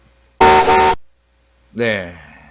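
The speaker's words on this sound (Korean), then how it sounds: "그리고 경적을 울려줘라. 빵빵." A car horn gives one loud, steady half-second honk as a driver warns a pedestrian walking at the road's edge, followed after a pause by someone speaking.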